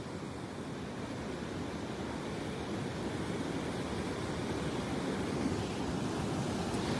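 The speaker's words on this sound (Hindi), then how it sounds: "ये पानी इतना तेज़ होता है" Fast floodwater of a swollen river near a bridge in Pakistan rushes in a constant, dense roar, steady from start to finish with no voices over it.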